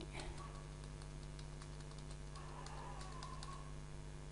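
Soft, quick keystrokes tap on a computer keyboard in irregular bursts, faint and close over a steady electrical hum, with no talking.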